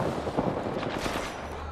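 Rapid gunfire from the video game Apex Legends crackles steadily and fairly loud through the whole short stretch, dense bursts that sound like automatic weapons rather than single shots.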